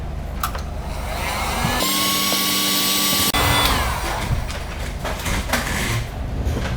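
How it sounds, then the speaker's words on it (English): A heat gun blows a steady whooshing roar over heat shrink tubing on a wire join for a 3D printer heated bed. The blower runs loud and continuous, with a higher whine rising partway through and shifting tone as it is moved. "use the heat gun to shrink it"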